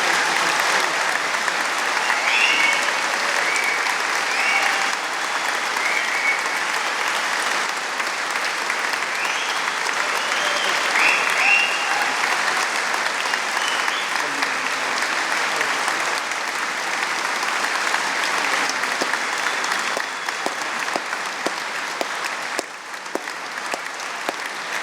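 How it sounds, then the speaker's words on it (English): At a degree ceremony in Poole, a large audience gives graduates a long, loud final ovation, a dense, continuous roar of clapping that stays strong throughout and thins slightly in the last few seconds. "join me in giving them a huge final round of applause"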